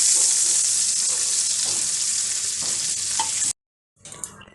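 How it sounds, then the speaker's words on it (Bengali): Steady loud sizzle of fish frying in hot oil, a bright continuous hiss that cuts off abruptly, then a brief softer sizzle resumes. "হালকা করে ভেজে নেব উল্টো মাছগুলো ভাজা হয়ে গেছে"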